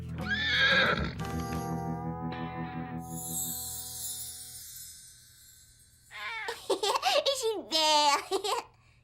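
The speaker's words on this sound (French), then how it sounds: "Salut le cheval." A horse in a farmyard in the cartoon Caillou lets out a loud, quavering neigh, then later bursts of whinnying, with hoof clip-clop and other sound effects in the background.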